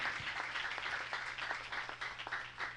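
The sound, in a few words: church congregation applauding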